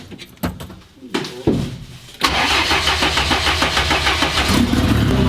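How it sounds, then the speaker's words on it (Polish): A Fiat 126 fitted with a 2.0 turbo engine makes a few clicks and cranking attempts, then fires up abruptly into a loud, steady, slightly pulsing running note close by. "auto pali tak jak powinno"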